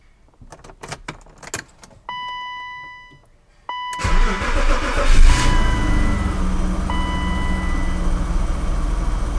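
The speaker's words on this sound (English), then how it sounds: "time to start it up and go for a drive." Keys jingle and click, a chime beeps, then the engine of a BMW E32 735iL cranks and fires, settling into a loud, steady idle with a rising rev.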